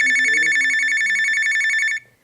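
A telephone rings with a rapid, buzzing electronic trill that holds steady for about two seconds and then cuts off, clear and fairly close, with no voices over it.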